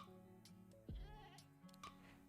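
A goat in Minecraft gives a short, wavering bleat at moderate distance, one quavering cry amid quiet game ambience with faint ticks.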